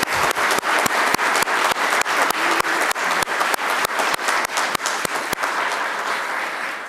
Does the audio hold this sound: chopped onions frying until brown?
no